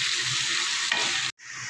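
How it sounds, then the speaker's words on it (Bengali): Potatoes with salt and turmeric fry in oil in a pan, a steady close crackling sizzle with stirring scrapes, briefly cutting to silence near the end before the sizzle resumes. "আলুটা আমার অনেকটাই ভাজা হয়ে গেছে"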